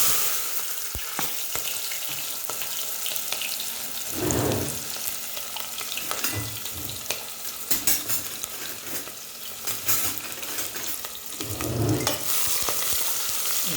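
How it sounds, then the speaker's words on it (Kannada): Onions and garam masala spices, cardamom and star anise among them, frying in a hot pan with steady close sizzling, punctuated by a few louder bursts of stirring and a spoon scraping the pan. "ಈಗ ಈರುಳ್ಳಿ ಹಾಕ್ತಿದ್ದೀನಿ"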